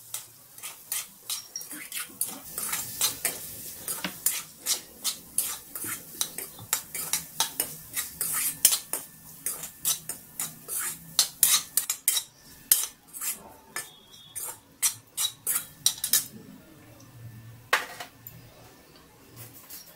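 Potatoes frying in oil in a pan for poha upma, stirred with a metal spoon that clinks sharply and rhythmically against the pan over a faint sizzle, close and alone without talk.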